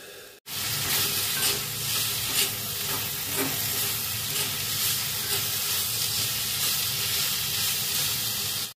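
Fiddlehead ferns cooking in a pan with salt and turmeric give off a steady, close, loud sizzle and hiss, with faint stirring scrapes running underneath throughout.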